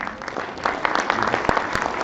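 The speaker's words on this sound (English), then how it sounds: "I would want you all to please applaud the team which has come from Tata UISL." A conference audience claps for a visiting team, a dense crowd of hand claps that keeps up steadily and fairly close throughout, without speech.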